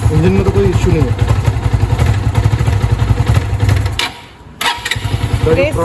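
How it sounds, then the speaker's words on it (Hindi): A motorcycle engine runs with a steady, loud pulsing idle for about four seconds, dips briefly, then picks back up and keeps running; no one speaks over it. "चलो, इंजन तो अच्छा है, रिवाइव्ड है।"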